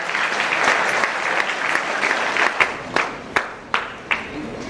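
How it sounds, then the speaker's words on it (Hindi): An audience at a motivational seminar applauds three children winning consolation prizes, a dense sustained round of clapping from a crowd in a hall that thins into a few louder separate claps at the end. "फिर से इन तीनों बच्चों के लिए तालियां जोरदार।"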